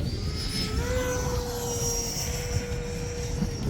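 A Freewing Stinger 90mm RC electric ducted-fan jet makes a touch-and-go pass in 25 mph gusty wind, giving a steady high whine with shifting pitch and rushing wind noise throughout.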